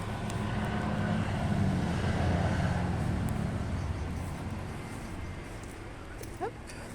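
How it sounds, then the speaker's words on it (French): A tractor passes near a French country property, a steady low engine rumble that swells and then slowly fades as it moves away. "Tracteur."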